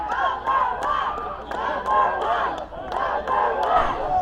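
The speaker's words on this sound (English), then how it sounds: "The fans cheering for Tio Chulo." Lucha libre wrestling fans at a live event chant and cheer in rhythmic, swelling waves, a loud crowd filling the whole stretch.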